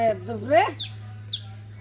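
A small chick with a sore leg clucks in a few short, high chirping calls, close by, over a steady low electrical hum with faint voices in the background.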